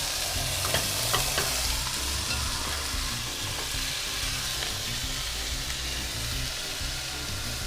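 Beef for a roast searing in a hot pan, a steady loud sizzle with crackling spits and occasional stirring or turning sounds, no voices.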